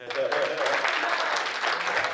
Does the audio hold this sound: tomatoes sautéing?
no